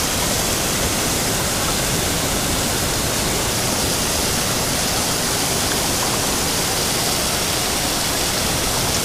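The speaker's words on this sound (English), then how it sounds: "That waterfall is so cool." A waterfall pours inside a sea cave on a rainy coast, a dense, constant roar of falling water that stays loud and even throughout with no voices.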